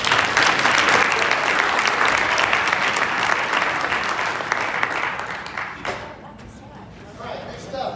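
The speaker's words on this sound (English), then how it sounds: "one more time, let's give another round of applause." A symposium audience on opioid misuse prevention applauds, a dense, loud burst of clapping that carries on for several seconds before thinning out, with some voices faintly underneath.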